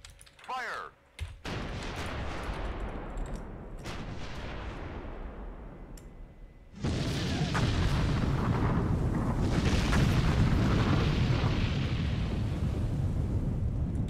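Artillery fire in the WWII strategy game Sudden Strike 3, a steady roar of battle with dense overlapping blasts that grows louder and heavier about halfway through, with a voice briefly heard at the start.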